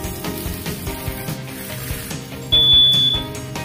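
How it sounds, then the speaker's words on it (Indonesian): A kitchen smoke alarm sounds while onions and peppers are being grilled for chicken pita wraps: a steady, piercing electronic tone cuts in partway through over the clatter of cooking. "yung smoke alarm. Tumunog."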